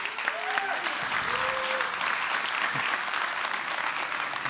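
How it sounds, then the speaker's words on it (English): A crowd applauds a speaker at WordCamp Europe 2023, steady dense clapping filling the hall throughout, with a few voices audible beneath it. "a round of applause, please."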